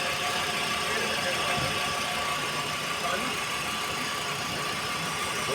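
A car engine revving steadily during a charging system test, a continuous loud broadband engine roar with little variation, while people speak over it.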